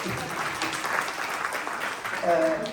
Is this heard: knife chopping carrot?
no